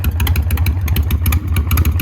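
A 1986 Harley-Davidson FXRS motorcycle engine running close by, a loud, lumpy, rapid firing beat with clattering mechanical pulses throughout.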